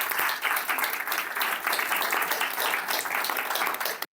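A debate audience at AUBG arguing capitalism against socialism breaks into dense, steady applause that fills the hall for about four seconds, then cuts off abruptly.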